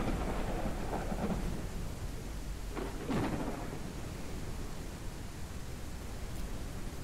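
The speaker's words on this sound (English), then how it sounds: "I didn't expect a thunderstorm." A thunderstorm in the video game SpaceBourne 2 rumbles with low rolling thunder and a couple of sharper cracks over a steady hiss of rain, fairly quiet and distant.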